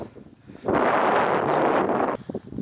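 Strong wind on an exposed mountain summit roars into the microphone in a loud, sustained buffeting gust after a quieter start, then drops back to lighter gusting.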